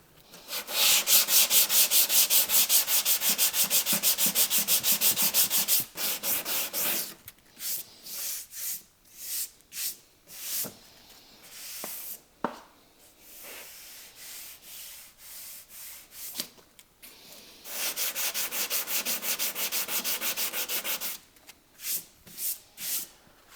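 Steady abrasive sanding of body filler on a Bentley Turbo RT, loud and close, in long continuous bursts separated by a stretch of shorter scrapes and pauses.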